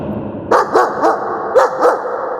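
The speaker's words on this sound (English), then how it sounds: "she is a big Newfoundland dog." A big Newfoundland dog barks five times in an even, steady rhythm, each bark deep and full, heard clearly and close with no voices.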